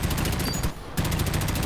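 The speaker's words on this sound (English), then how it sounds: "Ah, and the sound of gunfire." Rapid automatic gunfire in the video game Dirty Bomb rattles loudly and continuously, breaks for a brief moment, then resumes in another fast burst.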